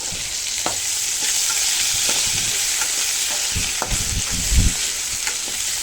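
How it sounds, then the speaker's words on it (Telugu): Ginger garlic paste and a little grated coconut fry in hot oil in a pan for a boti curry, giving a steady broad sizzle with scattered spatula scrapes and stirring knocks, a louder stir near the end, and no talk. "సో ఇట్లా వేయిపోయిన దాంట్లో మనం అల్లం వెల్లుల్లి ముద్దని, కొంచెం కొబ్బరి, దాన్ని వేసుకుని బాగా ఎర్రగా వేయించుకోవాలి."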